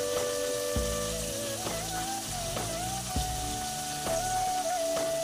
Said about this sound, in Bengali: তো ভাজা ভাজা হতে থাকুক বন্ধুরা